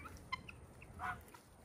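Guinea fowl call on a springtime homestead, a harsh, scratchy cackling with a brief louder burst, heard at moderate distance over a steady outdoor background hum.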